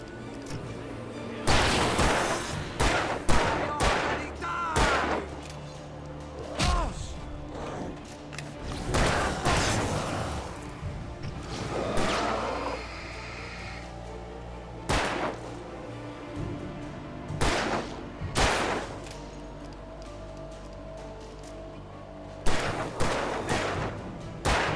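Gunfire in the Alan Wake video game erupts in repeated loud shots and volleys, some clustered in rapid bursts, spread irregularly across a tense stretch with crashing impacts and mechanical noises between.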